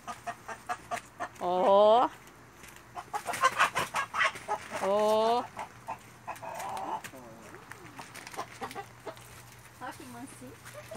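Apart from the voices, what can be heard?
chickens clucking in bamboo coop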